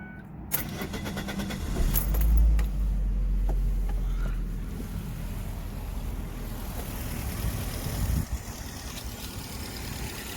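A 2003 Ford Focus ZTS engine with 130,000 miles cranks and starts with a loud low rumble, then settles into a steady, even idle.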